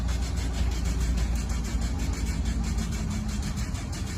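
A 1956 Volkswagen Beetle Oval convertible's air-cooled engine cranks and rumbles close by in a steady, low, pulsing drone with no pauses.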